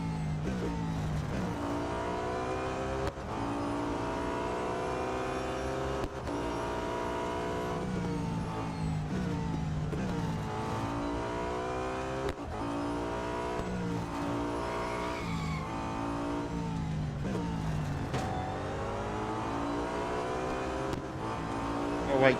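An Audi A5 DTM (2012) race car engine in the Real Racing 3 video game roars loudly and continuously, its pitch climbing and dropping through repeated gear shifts.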